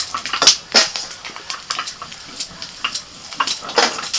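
Small mourala fish fry in a pan, giving a crackling sizzle with irregular bursts of spattering and clinks of a utensil against the pan, close and moderately loud with no talk.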